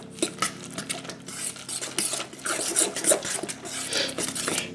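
Cornstarch, chopped spinach and two eggs being quickly mixed in a bowl for low-carb spinach bites, with a steady run of utensil scraping and clinking against the bowl, close and moderately loud, no talking.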